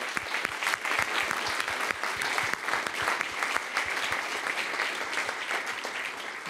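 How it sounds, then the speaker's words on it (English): A press-briefing audience at the Rosetta comet landing applauds steadily throughout, a dense, sustained round of clapping from a large crowd with no talk over it. "so let's give them an extra applause"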